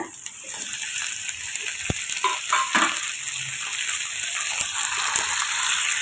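Tomatoes with green chilies frying for a chutney, a continuous loud sizzle close up, broken by a few scraping stirs and light taps of the spoon against the pan, no talking.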